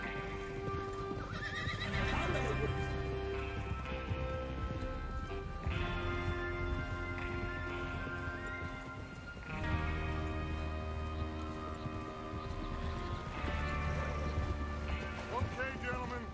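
Horses in the open-world game Red Dead Redemption 2 neigh and whinny over steady clip-clop hooves, layered with game music and a speaking voice, with repeated swells of activity throughout.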